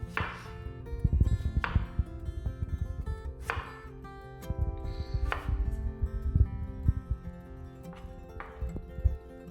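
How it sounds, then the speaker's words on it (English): A knife chops and cubes vegetables for tabbouleh salad on a board, with irregular clusters of soft, close knocks over about ten seconds, fairly quiet and without talk. "Slice it into little strips and then cut it across and cube it"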